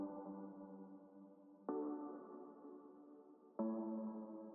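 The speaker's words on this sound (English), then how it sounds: "And then these sort of break plucks," Synth break plucks in an electronic music production, three sustained harmonic chords entering at a steady pace, each struck with a sharp attack and then slowly fading, heard alone without any voice.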